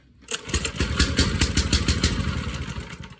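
A big small-engine motor cranks and catches right away after a new key ignition hookup and a low-oil shutdown switch deletion, then runs steadily with a rapid, loud, near putter.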